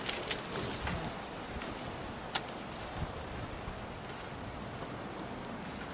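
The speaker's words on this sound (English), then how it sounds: "it's kind of windy now" Steady wind rushing and buffeting against the microphone, a low rumbling roar that stays fairly constant with a faint click partway through.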